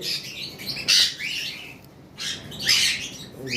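Several harsh, shrill lory parrot squawks burst out in quick irregular bursts while the birds feed, loud and close, with short pauses between calls and no talking.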